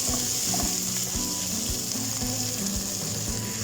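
Tomato and chickpea stew with bay leaves sizzling in a pan as oil renders out, a steady close frying hiss with faint rhythmic ticking underneath.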